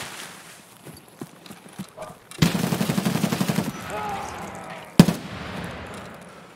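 Gunfire in the shooter game Escape From Tarkov: a sustained automatic burst of rapid, evenly spaced shots lasting over a second, then a single sharp loud report, among quieter clicks and movement sounds.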